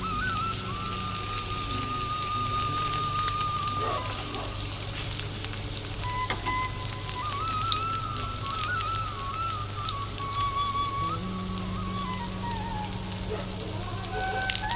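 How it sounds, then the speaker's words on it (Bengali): Eggplant pieces fry in oil with a continuous crackling, rain-like sizzle. A faint whistling tone drifts in the background, and nobody speaks. "বেগুনগুলো ভেজে নেই"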